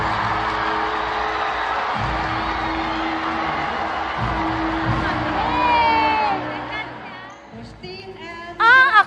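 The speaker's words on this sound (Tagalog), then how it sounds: "Ang lakas na sigawan ng mga senior high school student mula sa Palawan National School nang tawagin si Christine Velasco." Senior high school students from Palawan National School in Puerto Princesa City roar and cheer at a graduation ceremony, a loud sustained crowd din with shrill whoops and shouts swelling near the end.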